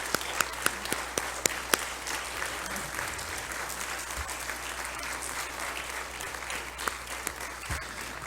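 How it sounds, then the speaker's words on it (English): Eagle Scouts receive a sustained round of applause from the audience at a National Court of Honor ceremony, steady clapping throughout with a few sharper individual claps standing out near the start. "Let's give another round of applause to all of the Eagle Scouts"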